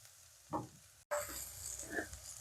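A spoon scrapes roasted semolina being mixed into tomato in a pan over low gas while making upma, with two short stirring scrapes around a sharp click and a faint sizzle between them.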